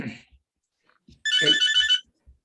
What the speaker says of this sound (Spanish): me está sonando el teléfono